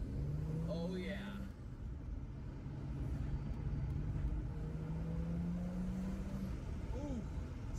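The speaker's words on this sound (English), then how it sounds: "this car has a downpipe, so you hear the turbo noise better than the E90" A car with a downpipe in a racing video game drones steadily under its engine, with turbo whistles and rising and falling pitch sweeps as it accelerates and shifts, loud and continuous throughout.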